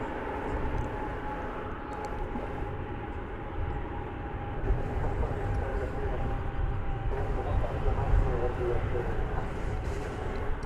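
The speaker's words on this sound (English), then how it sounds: "The big double-decker touching down after 9 hours and 53 minutes of flight." A big double-decker airliner touches down at DFW Airport, a steady broad rumble of engines and roaring wind noise holding loud and continuous throughout, with no pause.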